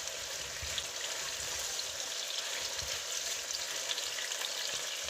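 Eggplant frying in hot oil with honey or sugar gives a steady, close crackling sizzle with dense, fine popping that runs unbroken and alone for about five seconds.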